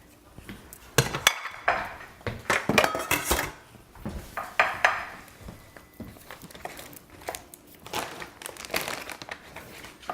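A utensil scrapes and clatters against a pan as lasagna filling is scooped out, with irregular metallic knocks and soft wet crinkly sounds in close, busy bursts and no voices.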